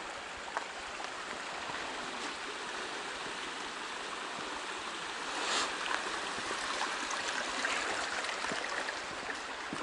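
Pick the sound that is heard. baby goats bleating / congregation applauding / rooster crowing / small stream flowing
small stream flowing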